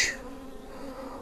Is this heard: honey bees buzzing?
yes